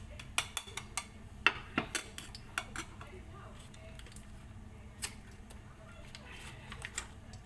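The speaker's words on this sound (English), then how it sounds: "So I'm mixing a butter" A utensil clinks and scrapes against a pan while butter and ghee are mixed for paneer butter masala, sharp metallic taps coming in quick irregular bursts, thinning out later, over quiet room noise.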